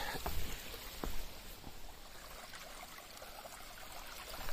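Running water from a small stream along a coastal hiking trail to Cape Pillar in Tasmania: a faint, steady trickling wash with a few brief splashy bursts near the start, heard alone without talking.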